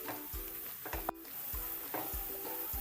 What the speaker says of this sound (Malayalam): ഇതെല്ലാതും ഇട്ടിട്ട് നന്നായിട്ട് വഴറ്റിയെടുക്കുക.